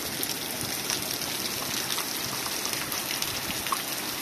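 Heavy rain pouring down steadily outdoors, a dense continuous hiss with scattered drops striking surfaces, constant and close throughout.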